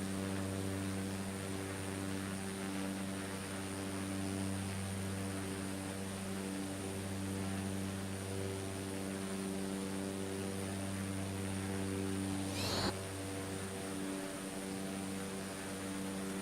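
Steady engine drone of a small Cessna propeller plane in Microsoft Flight Simulator 2024, a continuous hum with strong low tones and constant loudness, joined by a brief sweeping whoosh near the end, with no talking.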